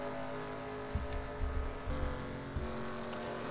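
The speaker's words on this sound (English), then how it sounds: "I hear Sheldon slowing down, so it sounds like she's going to pull in first" A race car in a racing video game slows to enter pit road at Arizona, its engine a moderate drone with a few low bumps and surges as it eases off.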